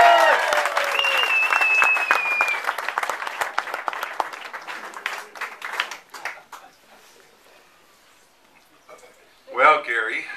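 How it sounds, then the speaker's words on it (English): An audience at a roast applauds John Colomb with dense, loud clapping and a few whoops that gradually thin out and fade over several seconds, followed by a short burst of crowd noise near the end. "Let's get the applause going for John Colomb."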